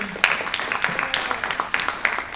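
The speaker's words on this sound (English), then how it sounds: "Applause for Brother Willie Flowers and Anthony Muhammad" An audience applauds at a community gathering, many hands clapping in a lively, uneven patter with distinct sharp claps, while voices carry faintly underneath.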